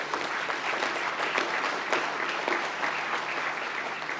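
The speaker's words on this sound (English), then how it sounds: "Let us give a round of applause to the graduates who have just been presented." A large audience claps at a University of London graduation presentation ceremony, dense, even applause that holds steady from start to finish.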